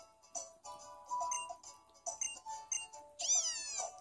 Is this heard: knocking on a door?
no